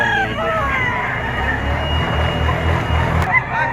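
Boston Sweater gamefowl at an early-morning market in Padre Garcia, Batangas, with a rooster crowing amid steady market bustle and faint background voices, the call rising briefly over the noise.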